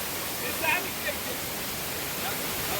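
Savdav waterfall in Kankavli roars as a steady, broad wash of falling water close by, with a few faint voices briefly heard over it.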